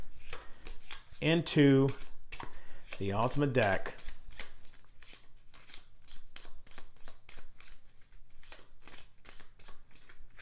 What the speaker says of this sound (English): now I take the entire discard pile, I shuffle it